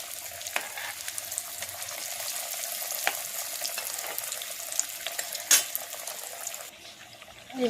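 Jackfruit cutlets fry in hot oil, a steady close sizzle with crackles and a few sharper pops, ending with a brief clatter as the pan is handled.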